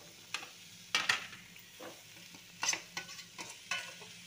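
Fried onions stirred into a pan of bitter gourd: a spatula scrapes and clacks against the pan in irregular strokes over a faint, steady sizzle, with several sharper knocks standing out.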